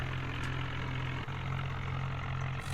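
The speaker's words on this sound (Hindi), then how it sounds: "जल्दी से हमारे ट्रैक्टर को लेके चलते हैं अंदर और पार्क करते हैं अंदर आसानी से" Tractor engine running steadily while the tractor is driven into a village garage to park, a continuous, fairly close low rumble with a throbbing idle tone and no talking.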